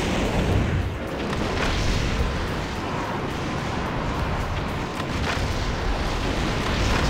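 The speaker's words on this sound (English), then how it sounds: "Grenade launcher. Oh, it sets it on fire." Grenade launcher blasts in Metal Wolf Chaos XD, with fiery explosions that leave targets burning. A dense, continuous wall of loud booming and roaring rumble fills the whole stretch without pause.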